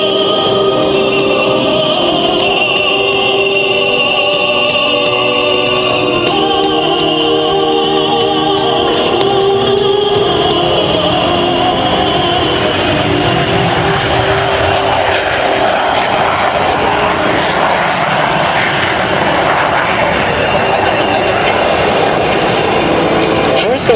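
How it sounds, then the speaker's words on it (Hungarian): Turkish Stars aerobatic team aircraft release their brakes and begin the takeoff roll, a loud, sustained engine roar that holds steady throughout with a voice speaking over it. "Now they release their brakes and they take off roll."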